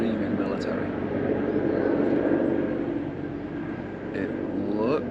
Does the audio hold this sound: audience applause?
no